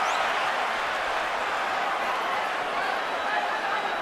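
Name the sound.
boxing crowd cheering excitedly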